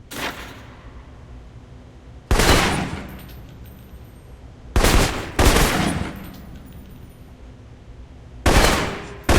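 Assault rifle gunfire in the shooter game Alpha Protocol: several loud, sharp bursts of rapid automatic fire separated by quieter pauses, the bursts close and punchy.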